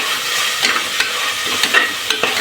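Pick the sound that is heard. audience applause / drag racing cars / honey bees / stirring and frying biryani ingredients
stirring and frying biryani ingredients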